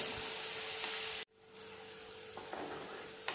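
Onions sautéing in oil for vendakkai puli kuzhambu, a Tamil okra tamarind curry, give a soft, steady sizzle that cuts out abruptly, then returns more faintly with a few light stirring sounds, and no one speaks.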